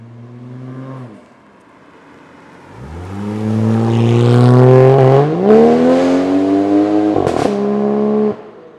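A 1992 JDM right-hand-drive Toyota Soarer's engine idles, then rises in a loud, close rev that climbs and holds, drops briefly with a quick blip, then settles back before cutting off.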